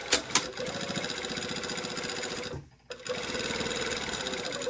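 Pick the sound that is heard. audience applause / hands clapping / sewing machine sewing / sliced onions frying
sewing machine sewing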